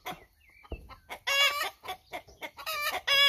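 Panicked hens and a rooster in a backyard coop cluck and squawk in loud, close, irregular bursts, with sharp excited cackles rising between shorter clucks and no talking.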